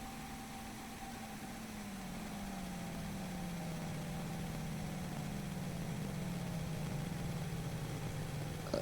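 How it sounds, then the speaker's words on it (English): Twin engines of a Boeing 737-300 in the IXEG flight simulator spin down after shutdown, a steady engine drone whose low tone slowly falls in pitch over several seconds. "Now we can get both engines off."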